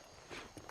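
In the Red Dead Redemption video game, a horse's hooves clip-clop on the ground, a few quick soft hoofbeats heard faintly at a distance.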